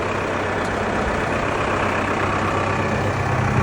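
A big blue diesel tractor idles nearby in a steady, loud, low rumble that runs unchanged throughout, with no voices over it.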